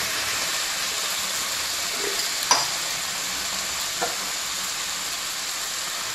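Green chillies and tomato with a little salt sauté over a lowered flame, giving a steady, fairly loud broadband sizzle with a couple of brief utensil clicks partway through.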